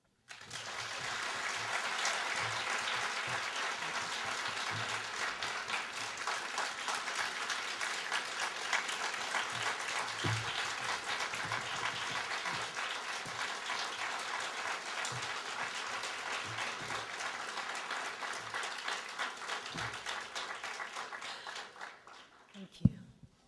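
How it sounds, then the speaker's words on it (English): A long round of applause from a seated audience rewards a speaker after a speech, steady dense clapping that holds for about twenty seconds before thinning out, with a bit of talk mixed in underneath. "I think we need to give her another round of applause."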